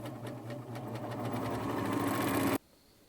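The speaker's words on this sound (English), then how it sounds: "I'm going to serge right off that edge" A serger trims and overlocks a seam edge on a shirt dress, its fast rhythmic whirring and clatter building steadily for a couple of seconds before cutting off abruptly into near silence.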